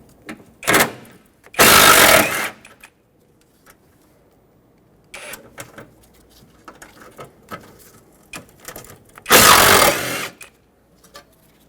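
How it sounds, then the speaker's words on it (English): A 13mm socket wrench loosens the battery tray bolts on a 2000-2005 Ford Excursion: short bursts of rapid ratcheting, loud and close, separated by quiet pauses and small metallic clicks. "Using a 13mm socket, let's unbolt the battery tray."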